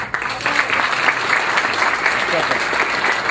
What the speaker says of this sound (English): Please, they deserve a round of applause.